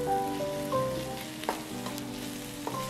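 Chicken frying for donne biryani in a pan on the stove over low flame, a steady soft sizzle running throughout with faint tonal hum and a few light stirring clicks.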